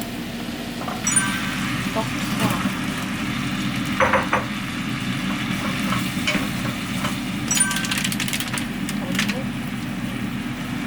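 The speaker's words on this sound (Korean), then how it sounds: "식용유에 양념을 좀 볶아주세요." Seasoning sauce stir-frying in cooking oil, a steady close sizzle with scraping stirs and occasional clinks of utensils, continuing throughout at moderate loudness.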